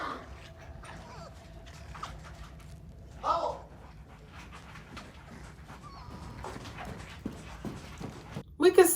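A dog in the TV drama Chernobyl whimpers and pants softly in a quiet scene, with brief louder yelps near the end and a faint steady hum underneath.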